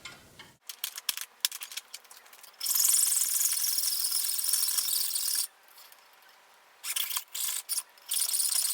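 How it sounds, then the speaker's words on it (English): Rough back-and-forth rasping of a hacksaw through a metal rod held in a vise, in steady loud strokes after some initial clattering, pausing briefly then resuming in short bursts. "I put this in my vise and I just cut the length I need with a hacksaw."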